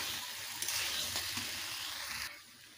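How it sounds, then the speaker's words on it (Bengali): Young jackfruit sautéing in a pan, a dense close sizzle with stirring scrapes that fades down near the end. "এবারে এঁচোড়গুলোকে আমি খুব ভালোভাবে কষে নিয়েছি"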